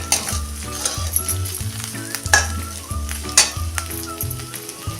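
Sabudana khichdi ingredients sizzling and frying in oil in a pan over a low gas flame, a steady crackling hiss with a few louder spits and the scrape of stirring, close and continuous with no talk.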